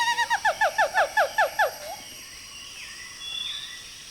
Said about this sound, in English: Gibbons sing to claim territory or as an invitation to mates.